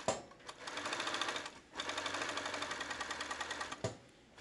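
An overlock sewing machine stitches along a fabric edge in two steady whirring runs with a short pause between them, close and clear, with no speech.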